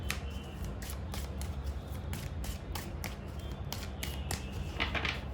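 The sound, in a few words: tarot cards being shuffled and drawn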